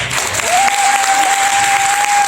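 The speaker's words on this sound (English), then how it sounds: "So please give my running mates a round of applause." Loud applause from a gathered crowd at a mayoral campaign event in Irvington, New Jersey, with a steady high whistle or feedback tone ringing through the clapping.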